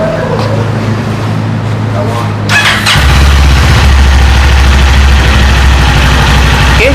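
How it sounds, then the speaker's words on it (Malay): A Modenas Z500 naked sportbike engine fires up partway through, then settles into a steady, loud, low idle close by, with a quieter rumble before the start. "So ni bunyi idling dia"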